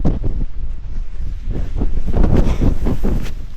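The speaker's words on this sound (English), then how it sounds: "Oh, it's windy." Strong wind buffets the microphone at a wild camp in England's Lake District, a steady low roar with gusty bursts throughout and no voices.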